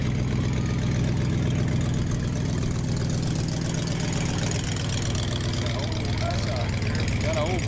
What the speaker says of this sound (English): look at that engine with all those exhaust pipes